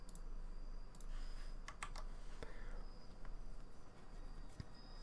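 Computer keyboard keys pressed in short irregular bursts of clicky taps, fairly close and quiet, over a steady low hum with no talking.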